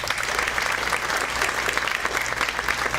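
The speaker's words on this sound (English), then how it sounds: "so they deserve a big hand of applause" A room full of guests at a high school alumni banquet clapping steadily, a dense, continuous round of applause with a faint hum underneath.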